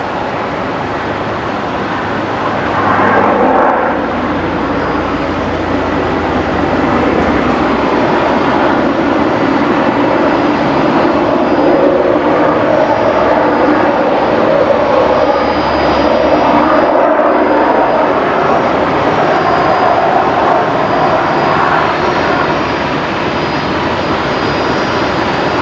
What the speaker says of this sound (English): Link Airways, Saab, just touching down there.